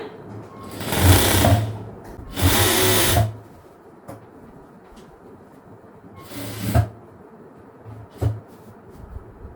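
Short, loud bursts from a sewing machine stitching a half-circle maxi dress with a princess cut. Three or four separate runs of a second or two each are separated by quieter gaps, with faint handling sounds between them.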